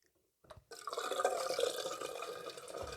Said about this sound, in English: Before we open for the first time, let's wet the face.